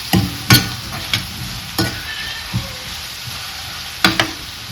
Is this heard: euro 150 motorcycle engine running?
no